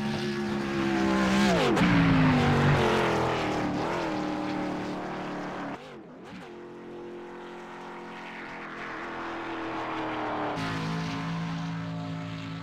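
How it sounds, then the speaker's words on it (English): A race car running on the racetrack at Gateway Motorsports Park during the Larry Phillips Memorial 160: a loud, sustained engine drone whose pitch bends and sweeps as the car passes, then settles into a steadier distant roar, with no voices. "Next car out on the racing surface"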